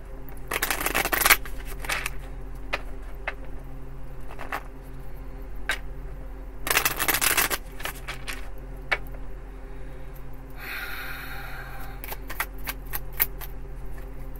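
Tarot cards being shuffled in two brisk riffling bursts, then lighter flicks and taps of cards against a quiet room hum.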